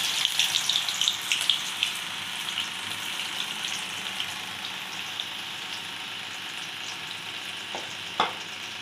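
Bitter gourd pieces fry in hot oil for a garlic chili pickle, giving a steady, close, dense sizzle with a few sharper pops near the end and no talking.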